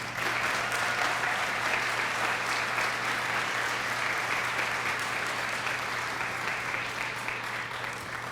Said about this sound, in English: Let's give all of that effort a round of applause.